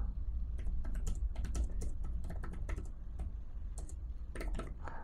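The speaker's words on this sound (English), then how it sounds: "Try typing here." Rapid, soft key taps on a Huawei MatePad 11 magnetic keyboard patter in an uneven stream, close and fairly quiet, with slightly hollow clicks from the thin keyboard.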